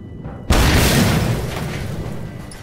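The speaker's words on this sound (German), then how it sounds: "Ich mache kleine Explosion." Explosion in the video game Mad Max, a single loud booming blast that hits suddenly and then rumbles and fades over a couple of seconds, heard alone.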